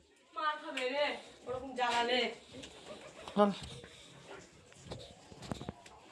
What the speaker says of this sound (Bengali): তো এই যে পায়রা আর এখানে একটা বাচ্চা